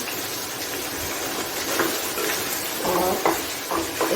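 Tomato cooking in a pan for chicken black pepper macaroni, a steady close sizzle with soft stirring scrapes that grow a little louder toward the end, no talking.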